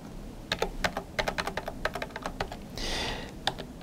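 Fast computer keyboard typing during accounting data entry, a rapid run of close, crisp keystrokes with a brief rushing noise near the end and one final key tap, no talking.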